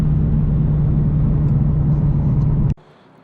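A Roush Stage 3 Mustang's engine roars loud and steady on a dyno, a sustained droning pull that cuts off abruptly near the end, leaving a quiet room.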